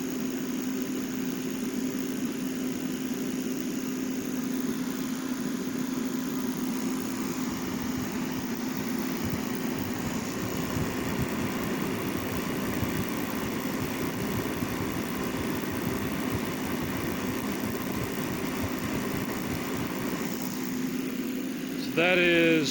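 A Heat Star portable propane heater runs with a steady, continuous roar and low hum, holding an even level throughout before a brief louder burst at the very end.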